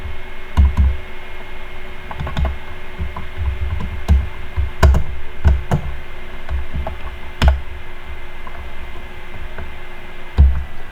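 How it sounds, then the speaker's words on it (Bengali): Keys tapped on a computer keyboard while a name is entered into an online shopping account sign-up form, giving close, irregular clicks in short bursts over a steady low hum. "সো আমি আমার নামটা টাইপ করে দিচ্ছি"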